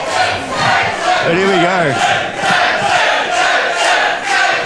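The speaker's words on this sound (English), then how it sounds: "The crowd definitely on the side of young Jackson" A wrestling crowd at an APW New Beginnings 4 show roars and cheers in broad, swelling waves that rise and fall across the whole stretch, with one voice shouting over it briefly.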